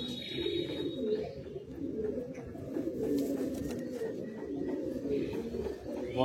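A loft of Kalsira Madrasi high-flying pigeons keeps up a dense, continuous cooing chorus, several birds close together producing a throaty rolling murmur with occasional faint chirps.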